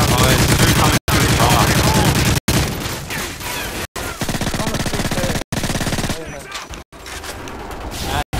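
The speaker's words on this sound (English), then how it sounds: "I thought it was kind of funny, so I just kept shooting them." Video game gunfire rattles in rapid, loud automatic bursts with brief silent gaps between them, while players keep talking over it.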